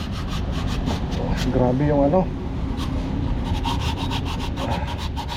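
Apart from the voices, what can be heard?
sanding rust with sandpaper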